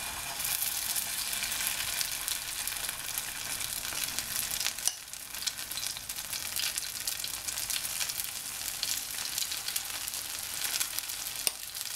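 Potato latke batter fries in a pan with hot oil, a continuous bright sizzle and crackle at moderate level, broken by a short dip midway, with no voices.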